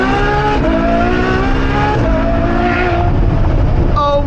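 Straight-piped Ferrari V12 revving loud and close, its rising and falling harmonic wail held steady throughout with a brief pitch dip and climb midway.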